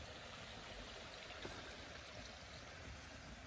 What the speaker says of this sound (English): It even sounds beautiful down here. You can see it's kind of like a, well, it is a little waterfall.